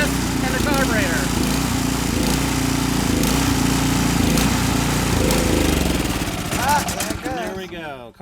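A gravity-fed snow blower engine runs rough, a loud, uneven chugging putter that holds steady, then sags and sputters toward the end, with someone talking over it.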